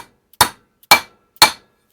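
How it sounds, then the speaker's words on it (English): A brass hammer drives a gear part down into an Ingersoll-Rand gear housing, with three sharp, loud metallic strikes evenly spaced about half a second apart, each ringing briefly before fading. "a brass hammer again, drive this down"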